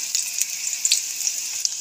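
Garlic cloves fry in hot oil that had just been used for dried red chilies, giving a steady close sizzle with small bright pops and spits, with no voices.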